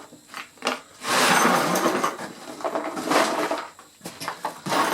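Metal screws, washers and nuts pour into a bucket with a loud clattering rattle in several bursts of tumbling hardware. The pours are uneven and come close together.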